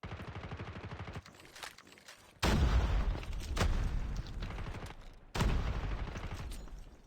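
Frag grenade blasts in a squad-versus-solo shooter video game: two loud, sudden booms about three seconds apart, each with a long rumbling tail, set against steady rapid gunfire.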